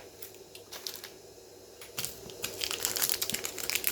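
Crinkly plastic wrapper of a crispy, creamy Japanese cheese snack being torn open up close, a run of dry crackles and rustles that grows denser and louder toward the end, with no talking.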